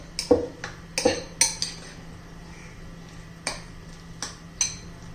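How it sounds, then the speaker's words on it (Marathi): A spoon clinks repeatedly against a bowl while an egg tikki mixture is stirred, giving a string of sharp, close metallic taps at an uneven pace with quiet gaps between them. "हे पहा, अंडा असं व्यवस्थित मिक्स करून घ्यायचंय"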